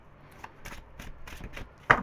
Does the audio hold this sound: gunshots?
no